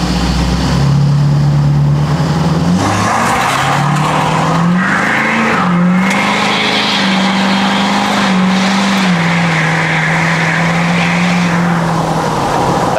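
Ford 6.7L Powerstroke diesel truck in two-wheel drive launching hard on a 0-60 run after boosting, its loud engine droning and rising steadily through gear changes for about twelve seconds with no talk.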